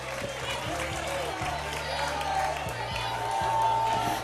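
Audience applause and cheering for a young juggler at a school talent challenge, a broad crowd wash with whoops, under steady music and some talk.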